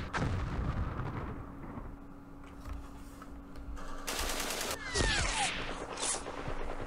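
Gunfire and artillery blasts from the wargame Campaign Series Middle East: sporadic shots and bursts at moderate level over a low steady hum, with a brief louder crackle of fire toward the middle.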